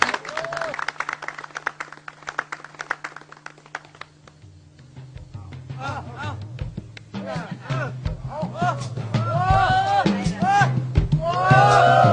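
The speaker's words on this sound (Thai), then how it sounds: "ขอเสียงปรบมือเป็นเกียรตินะครับ" Guests at a Thai wedding celebration break into clapping that builds from scattered, sparse claps into fuller applause, mixed with crowd chatter, voices and background music.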